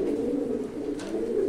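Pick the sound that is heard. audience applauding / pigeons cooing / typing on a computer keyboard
pigeons cooing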